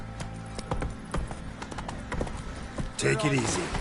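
Hooves of Geralt's horse Roach clip-clop in The Witcher 3 through a steady stretch of game sound, with a louder burst near the end.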